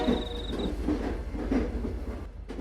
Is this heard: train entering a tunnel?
yes